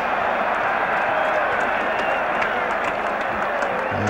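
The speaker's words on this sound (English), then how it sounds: "Dickie there getting the biggest cheer of the day for that no ball." A cricket crowd at a 1984 England v West Indies one-day international cheering and applauding a no ball, a steady wash of clapping and roaring from a large stadium audience that holds at full volume throughout.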